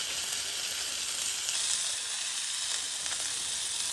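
Seasoned steak searing in a hot pan, a loud, continuous close sizzle and hiss that holds steady throughout with no voices.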